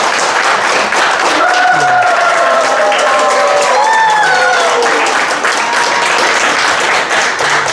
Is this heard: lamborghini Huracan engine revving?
no